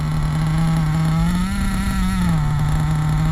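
A Hobao Hyper SST .30 nitro RC engine idles loud and close during break-in on its first tank, giving a steady buzzing drone that rises slightly in pitch midway, then settles back.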